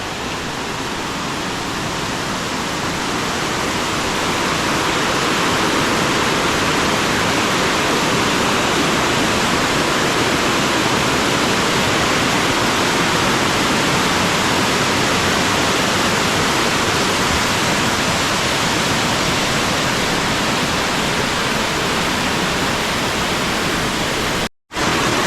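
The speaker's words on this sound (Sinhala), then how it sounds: "ඔන්න එහෙනම් අපි ආව බෝපගම ඇල්ල ගාවට." Bopagama Ella waterfall in Gampaha, Sri Lanka, roars in a dense, unbroken rush of falling water, loud and close, with no voices and only a momentary dropout near the end.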